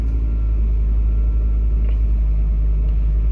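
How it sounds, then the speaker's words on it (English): A 2005 Ford Focus with a manual gearbox idling as it warms up: a steady, loud low rumble that holds evenly throughout with no voices. "So let's turn it on, push the clutch all the way in, slowly let off the clutch."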